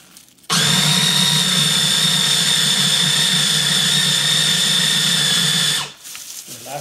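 A food grinder runs steadily as it grinds chopped Spam into a spread, one loud continuous motor whir of about five seconds that starts and stops abruptly, with no talking.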